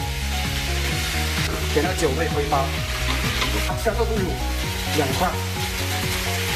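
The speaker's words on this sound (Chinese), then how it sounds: "炒上下配料姜蒜，下香料炒香。" Ginger, garlic and spices stir-fried in a wok, sizzling steadily with repeated scraping strokes of a spatula throughout, close and fairly loud, with a brief bit of speech over the cooking.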